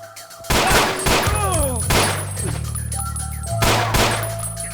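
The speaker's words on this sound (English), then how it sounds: "Someone's shooting at me." Gunfire in the video game Ashes: Afterglow, with loud repeated shots cracking across the clip over a droning low background.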